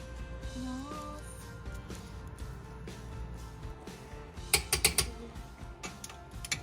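A torque wrench gives final tightening to bolts on a CA18DET-powered S13 car, a short cluster of crisp metallic clicks standing out midway over a steady background hum.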